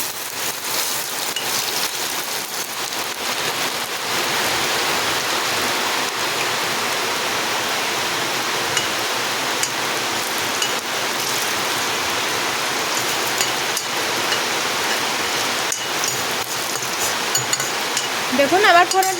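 Panch phoron spices and ginger sizzling in hot oil while khichuri is cooked, a steady, close crackling hiss that runs unbroken from start to finish with small pops near the end.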